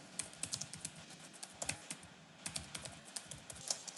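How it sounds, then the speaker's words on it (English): Rapid, uneven typing on a computer keyboard during a FRAI assessment demonstration, crisp close key clicks in irregular bursts with no talking over them. "my typing is shocking today"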